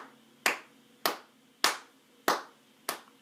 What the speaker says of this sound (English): Sit for 5 seconds while you clap your hands.